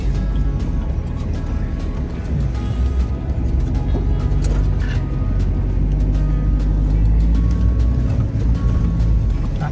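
A vehicle rumbles along a dry sandy riverbed in Namibia, its engine droning loud and steady throughout with a continuous low roar and scattered rattles from the ride.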